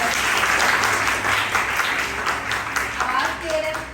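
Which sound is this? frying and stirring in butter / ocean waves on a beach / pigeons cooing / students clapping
students clapping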